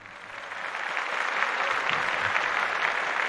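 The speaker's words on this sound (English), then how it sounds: "And you get a clap because you followed." Applause swells up from quiet and holds as a steady wash of clapping for a few seconds on a livestream, with no voices over it.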